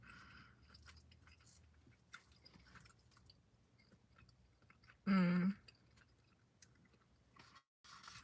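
Someone in a car chews fries dipped in a Frosty. The chewing is soft and close, with one louder crunchy bite partway through, and no one speaks.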